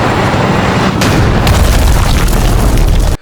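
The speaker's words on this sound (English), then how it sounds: "2 yellow tanks rolled up and blasted shells directly into the building." Tank shells exploding inside a ruined building in the war game Best in Hell, heavy roaring blasts with a rumbling low end, loud and continuous, then cutting off abruptly.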